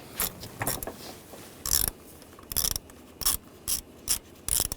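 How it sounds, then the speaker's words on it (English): A ratchet fitted with an 8mm socket clicks in quick bursts as it loosens a worm-drive hose clamp on a 2008-2012 Jeep Liberty 3.7L V6 radiator, about eight close, sharp rattling strokes separated by short pauses. "I'm just going to loosen this up using a 8mm socket."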